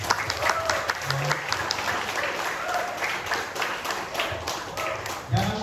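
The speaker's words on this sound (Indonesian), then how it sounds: "Beri aplaus yang meriah buat Bapak Agus Halul." An audience applauds steadily, many hands clapping in a dense patter, while voices speak and call out over the crowd.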